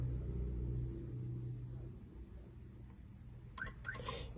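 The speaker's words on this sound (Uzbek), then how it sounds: "2 marta bosganimizda ikkita signal beradi" Two quick electronic chirps from a Megagear 903 car alarm system sound near the end, following a low, steady engine-like rumble.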